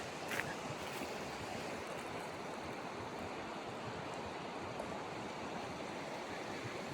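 Floodwater roars out of Stony Creek near Banff, a steady, loud broadband rush of churning water that holds constant throughout, with no voices.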